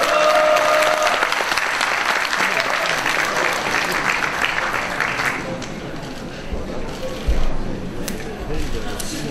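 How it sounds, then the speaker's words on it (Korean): Loud, dense applause from a book-launch crowd welcoming a satirical comedian host onto the stage, steady for several seconds before thinning into scattered claps and murmuring voices. "우리 노정렬 노채 대표님을 힘찬 박수로 모시겠습니다"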